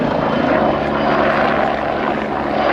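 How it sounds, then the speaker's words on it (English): A Bo 105 helicopter, a disarmed former anti-tank machine converted for communications and army training, flies at the Royal International Air Tattoo 2015 air show, giving a loud, steady, continuous rotor and engine drone throughout. "Quite a lot of the anti-tank Bull 105s have been disarmed and converted into communication helicopters."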